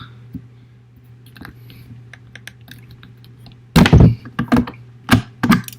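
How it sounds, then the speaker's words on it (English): The trigger guard of an M1 Garand rifle is popped out during field stripping, a few faint metallic clicks and then a cluster of sharp, close clunks and snaps, with quiet hum between. "we have to pop the trigger guard"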